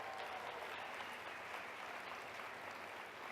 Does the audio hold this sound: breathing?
no